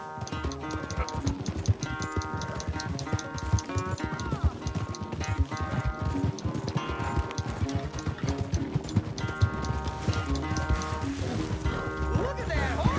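A horse galloping in Red Dead Redemption 2, with rapid, continuous hoofbeats and a brief whinny, carrying on under music and people talking throughout.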